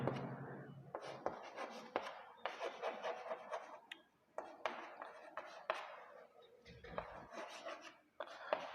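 Marker or chalk scratching on a board in a Hindi chemistry lesson on atomic structure, bursts of rubbing strokes with short pauses between them, while a teacher talks quietly alongside.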